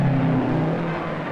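Ferrari racing cars driven by world champion Ascari blaze past the grandstand in an Argentine race, a steady loud engine drone held briefly with no talk.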